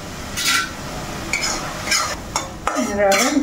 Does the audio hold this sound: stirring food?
yes